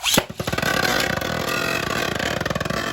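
Metal Fight Beyblade launcher fired in a test launch: a sharp rip of the string at the start, then a rapid whirring buzz of the spinning top that pulses steadily and close for several seconds.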